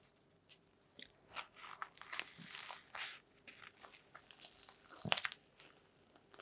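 Close, quiet crunches and chewing as someone bites into a keto sausage roll, irregular bites and crinkly munching spread through the clip.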